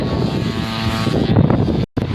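Small engine of a pesticide spray pump running steadily with a loud buzzing drone and mechanical rattle, close by, cutting out abruptly near the end before briefly catching again.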